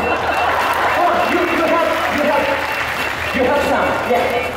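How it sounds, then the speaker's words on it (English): A crowd watching a comedy busker's street show at the Sentosa Buskers Festival applauds steadily, while a performer's voice carries over the continuous clapping. "Big round of applause."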